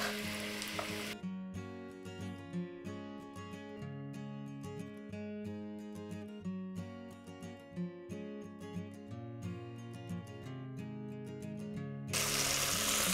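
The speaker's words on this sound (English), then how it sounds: "This is searing nicely." Meat searing in a pan for goulash gives a steady close sizzle with scattered crackles and pops that runs the whole length without any talk, ending in a brief burst of broadband hiss.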